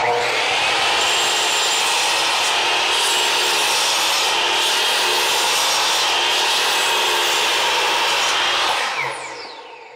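A 10-inch sliding miter saw cuts through a bundle of lumber, a loud, steady, close whine of the blade biting wood for about nine seconds before spinning down.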